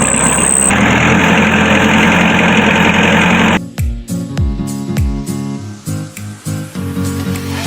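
A farm tractor engine runs as a loud, steady diesel rumble for a few seconds. It then stops, followed by a series of sharp knocks and clunks.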